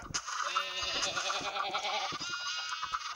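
Sheep bleat in the video game Minecraft, a crowd of overlapping nasal baas rising and falling continuously at close range, with no pause.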